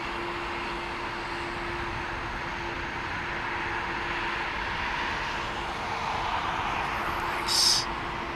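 An airliner arriving at an airport, heard as a moderate, steady jet rumble with a faint tonal hum, building slightly near the end, with a brief sharp noise late on.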